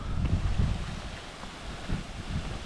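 Thermal waterfall in the Azores, its water about 23 degrees, pouring steadily in a broad low rushing roar that stays loud and continuous throughout, with no voices.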